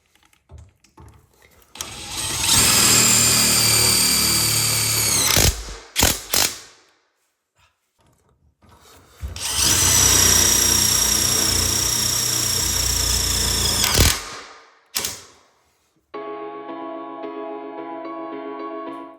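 A power drill drives screws into a wall-hung toilet frame in a bedroom bathroom, with two long, loud whirring runs that rise and strain before stopping, separated by a short pause and ending with a steadier mechanical hum.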